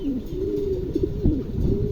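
Two large male Shaukin pigeons of around 8-9 kilos cooing up close, with a continuous low, throaty, warbling coo and a slight rise and fall in pitch.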